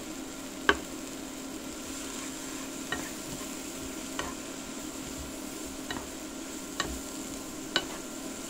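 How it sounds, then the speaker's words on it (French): Leeks frying in a hot pan give a steady, even sizzle, broken by occasional sharp clicks as a utensil stirs them and taps the pan. "On va faire une tombée de poireaux."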